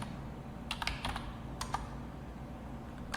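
Quiet, sparse keystrokes on a computer keyboard while network switch configuration commands are entered, a few clustered clicks with pauses between them over a low steady background hum.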